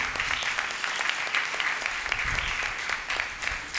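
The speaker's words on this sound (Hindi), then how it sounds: "इन सब के भी लिए बहुत सारी तालियां होनी चाहिए" A congregation applauds at a Thanksgiving Holy Mass in a church, with steady, dense clapping throughout that holds at an even moderate level.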